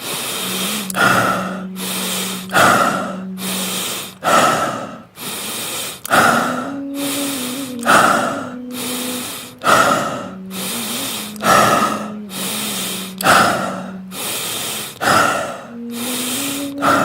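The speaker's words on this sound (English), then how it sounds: "Then begin stomach breathing." Deep stomach breathing during a meditation exercise: slow, rhythmic cycles of loud nasal inhales and hissing exhales, repeating about every two seconds, close to the microphone, with a faint hum under some breaths and no speech.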